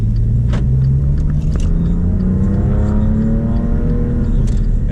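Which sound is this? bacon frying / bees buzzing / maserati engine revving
maserati engine revving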